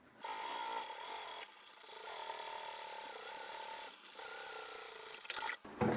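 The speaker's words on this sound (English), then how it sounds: "we can take both ends to the machine and we'll sew all the way down those edges" A sewing machine stitches down the edges of a fabric crossbody bag in short whirring runs, with brief pauses between bursts and a final stuttering stop, heard up close and alone.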